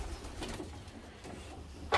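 Young racing pigeons in a Belgian loft coo softly and steadily, a low murmuring backdrop with no voices over it.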